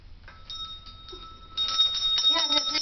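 A small hand bell, the kind used to call for attention, rings with bright repeated metallic tones that grow louder and busier toward the end, over low household rumble.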